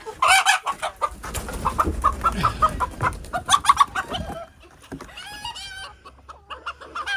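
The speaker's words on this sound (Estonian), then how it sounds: "See on ju vana kukk." Close by, hens and a rooster cluck repeatedly, with bursts of wing flapping and rustling between the calls.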